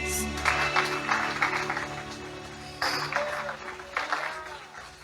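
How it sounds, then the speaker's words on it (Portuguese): A church congregation at a family worship service applauds in bursts over sustained organ or keyboard chords, the clapping fairly soft and intermittent with voices mixed in. "Aplauda ao Senhor"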